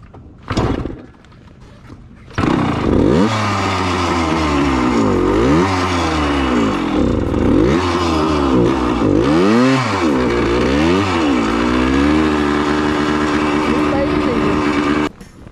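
A vehicle engine revs hard in the snow, a loud sustained roar with sweeping rises and falls in pitch after a short thump and idle, running steadily for over ten seconds with no talking.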